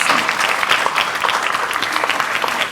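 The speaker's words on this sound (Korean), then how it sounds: "큰 박수 한번 보내주셨으면 좋겠습니다" Applause from the audience at a diplomacy forum's roundtable session, thanking the organisers: brisk, dense clapping from a room of people, loud and even for the full stretch.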